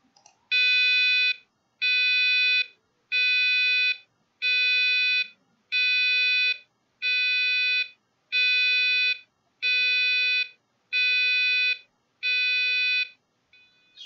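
A passive buzzer driven by a PIC16F877A microcontroller sounds ten evenly spaced long electronic alarm tones, each about a second, loud and steady with short silent gaps between them.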